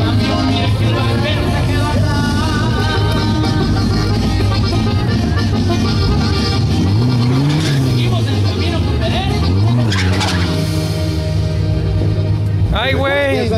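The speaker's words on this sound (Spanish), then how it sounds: "Se calienta los motores, revoluciones para arrancar." Turbocharged drag racing car engine revving before a quarter-mile launch, with a steady loud drone and rising and falling rev sweeps, under continuous crowd babble and nearby talk.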